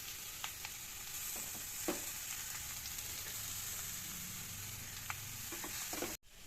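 Grated carrots frying in ghee over very low gas for carrot halwa, giving a steady close sizzle broken by a few soft stirring scrapes and no talk.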